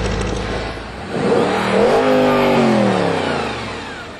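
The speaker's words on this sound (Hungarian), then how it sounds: "hogy ez az alapjárat is mennyire szép" A 4.2-litre V8 in an Audi RS4 Quattro rumbles steadily at idle up close, with a slight swell in the middle and no voices.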